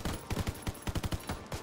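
Rapid light machine gun fire in a video game, a dozen or so sharp close shots in quick uneven bursts, loud and punchy.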